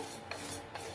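Ground chilli, salt and garlic are mixed by hand, giving a short, quiet rubbing and rasping with two faint scrapes; no voices.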